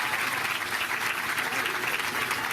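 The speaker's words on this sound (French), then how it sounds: "Et je vous demande de les applaudir." An audience applauding at a political party event, dense steady clapping from a large crowd, continuous and even across the whole moment.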